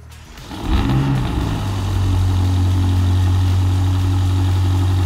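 A BMW M5 fitted with downpipes, a stage 3 ECU tune and a SuperSprint exhaust cranks and fires up, then settles into a loud, deep, steady idle rumble close by.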